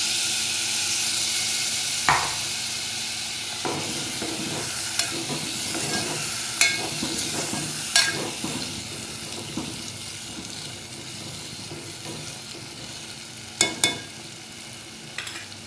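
Stuffed brinjals being sautéed in a masala in a pan for bharli vangi, giving a steady soft sizzle broken by occasional clinks and scrapes of stirring, close by with no voices.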